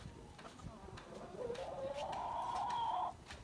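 Pet chickens cluck in a backyard coop, a faint, wavering call rising over soft background noise and scattered knocks, lasting about a second and a half.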